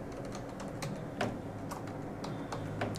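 Typing on a computer keyboard to enter a WiFi router password, a steady run of close, quiet key clicks with a few louder strikes and no talking.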